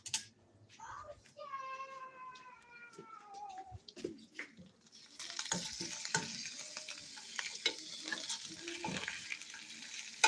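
Small pieces of fatty beef frying on a stove, a continuous crackling sizzle with stirring noises that sets in midway; before it a cat meows and someone speaks briefly.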